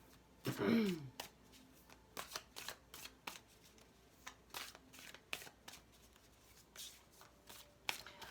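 A deck of tarot cards is shuffled for a love reading, with a loud riffling burst near the start followed by scattered soft card taps, slides and handling sounds in a quiet room.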